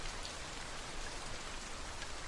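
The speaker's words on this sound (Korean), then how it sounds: "창 밖으로 톡톡 튀는 빗방울 소리가 듣고 싶어서." Steady rain falling outside an open window during a sudden downpour, a dense continuous patter of drops with no gaps, moderately loud and evenly spread.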